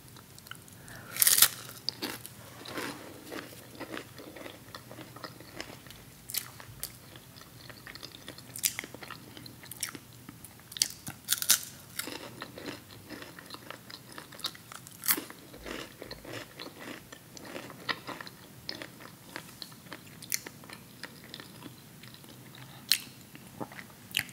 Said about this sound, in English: Saltine crackers, one of my favorites.